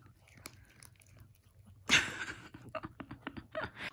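A small dog chews birthday cookies up close, with wet crunching bites and rapid chomps that grow louder and denser in the second half.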